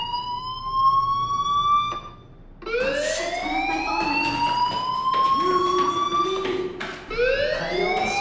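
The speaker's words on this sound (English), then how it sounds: "do you hear that fire alarm?" A fire alarm rings in the video game Life is Strange as a loud electronic siren whose tone sweeps upward again and again, with a short gap before it restarts and keeps wailing.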